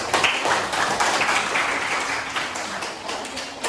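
A classroom group gives applause, a moderately loud, dense patter of many hands clapping continuously for a few seconds before easing slightly.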